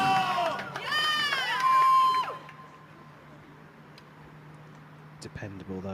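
A crowd at a men's recurve archery bronze medal match in Antalya cheers and whistles in a loud burst that lasts a couple of seconds, then fades to a quiet murmur under a commentator's voice.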